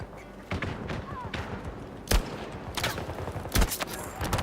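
Shots ring out in a Battlefield video game, several sharp cracks and booms spread across a busy battle soundscape, with voices talking over the action.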